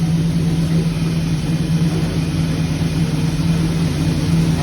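A 1938 Pontiac engine idles with a bad number one spark plug wire, giving a loud, steady, close-up rumble that holds evenly throughout.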